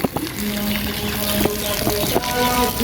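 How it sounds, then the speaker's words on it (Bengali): Water gushes steadily from a tube well pipe driven by a two-horsepower motor, a constant splashing rush nearby with a faint mechanical hum and a few knocks. "পানি পড়ছে আপনারা শব্দ শুনছেন"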